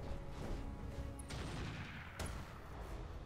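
Mech weapons firing in the video game Roguetech, a dense volley of gunfire and booms over a steady rumble, with two sharper cracks standing out partway through.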